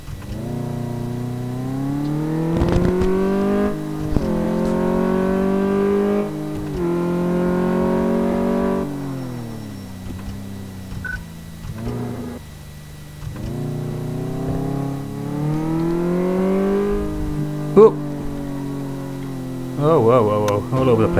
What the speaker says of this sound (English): so we can also drive the car. So let's drive it.